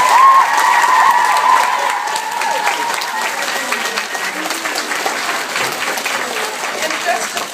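Large crowd applauding at a speech in a Dublin theatre, loud and dense at first and then tapering slightly, with some talk and a tonal sound briefly audible over the clapping.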